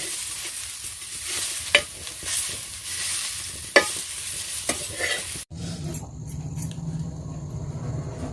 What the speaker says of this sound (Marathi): तळून घेते तेल टाकून.